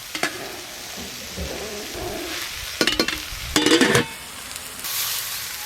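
Washed rice and lentils go into a hot pot for khichuri, giving a close sizzle with bursts of clattering and stirring scrapes. There is no talking.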